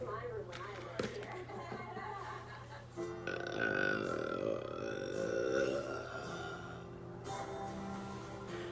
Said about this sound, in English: You love that burp